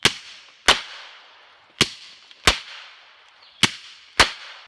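Six sharp suppressed gunshots from a Silencerco Hybrid firing 124 grain rounds at about 1100 feet per second crack at irregular intervals, each a loud snap with a short decaying tail and no voices.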